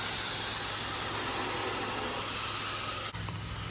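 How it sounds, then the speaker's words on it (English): A pressure washer sprays water on a house, a loud continuous hissing rush of spray that shifts slightly near the end, close and steady with no voices. "We're using a wide variety of spray nozzles to achieve a good thorough rinsing."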